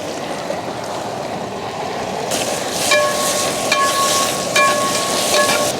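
Five hundred grams of small shallots sauté in a pan for chicken kondattam, giving a steady close sizzle with a few light metallic clinks and scrapes of stirring partway through.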